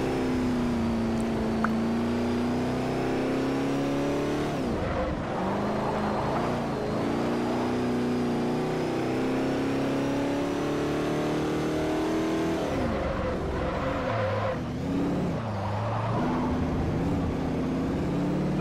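Mazda MX-5 Miata-style car engine in the Forza Motorsport 4 racing game, revving through gears with repeated climbs and brief dips at shifts, a continuous loud engine tone without speech.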